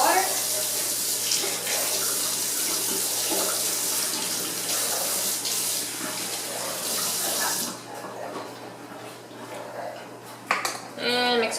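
Hot water runs steadily from a kitchen tap while homemade play-dough is being made, a loud, continuous rushing hiss that stops partway through, followed by a few faint clinks and handling sounds.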